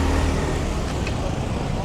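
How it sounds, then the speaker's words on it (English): Road traffic rolls past in a town street, a steady broadband roar of cars holding at an even level for the whole couple of seconds, with no speech over it. "we'll just get past this traffic"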